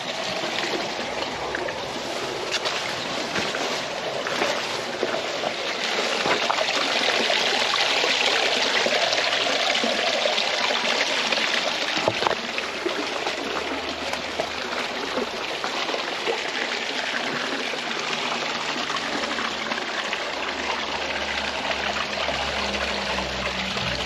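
Gravity-fed water pours steadily from an outlet pipe down a garden pond waterfall, a continuous close splashing and trickling rush that stays even throughout with no talk.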